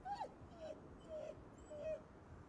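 A dog in the video game Ghostwire Tokyo whimpers softly, giving several short, high whines spread evenly across the moment, fairly faint with a little background sound.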